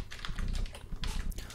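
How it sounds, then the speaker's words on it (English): Rapid clacking of a mechanical keyboard being typed on in the background while a PHP form is coded, with steady close keystrokes and no talking. "I'm sorry if you guys can hear the mechanical keyboard in the background."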